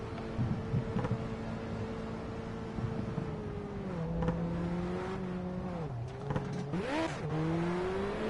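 Race car engine holding a steady drone on a flying lap in the video game Project CARS, with pitch dipping and rising through braking and acceleration, plus brief tyre squeal near the end.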